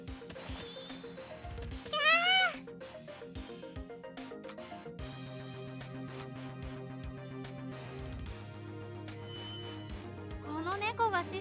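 Kitten meowing in the video game Ghost Trick, two short high mewing cries over game music, one early and one at the end.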